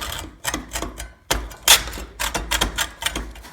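A worn hand saw with missing teeth cuts through a part during an espresso machine repair, giving irregular rasping strokes with uneven rhythm, close and fairly loud, each stroke a short scratchy burst with gaps between.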